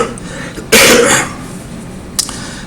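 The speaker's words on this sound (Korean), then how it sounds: "기침을 하더라도 양해해서 들어주세요" A single sharp, close cough from a speaker with irritated airways bursts out, followed by a fainter short throat sound a moment later.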